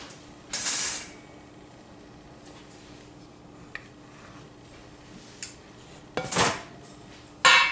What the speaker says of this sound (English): I'm going to get a rack and then we're going to pop those out of the pan